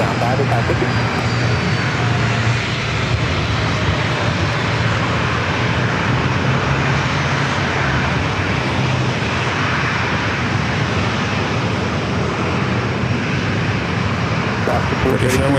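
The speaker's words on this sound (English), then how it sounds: "British Airways is on the move, heading over here to the runway for a departure back to London Heathrow as Kevin bumps into the camera." A British Airways airliner taxis toward the runway at San Diego airport for a departure to London Heathrow, its engines a loud, steady broadband roar and whine that holds without letup.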